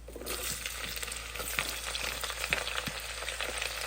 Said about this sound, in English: The spices are roasted, add the onions